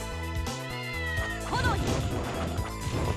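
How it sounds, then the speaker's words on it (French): A single cat meow sounds briefly amid game music and a sudden crash, followed by clattering game noises, in Castlevania: Order of Ecclesia. "Vous pouvez entendre les miaulements."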